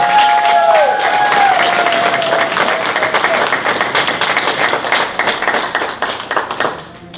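A church audience claps for a group of children, a loud burst of many hands that starts full and gradually breaks up into scattered claps, with a brief voice or tone at the start.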